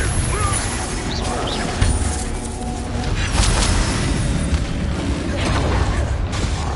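Confringo blasting spell explosions in the Hogwarts Legacy video game, booming and crashing over a dense, continuous rumble of combat effects, loud and steady throughout with brief pops and bursts.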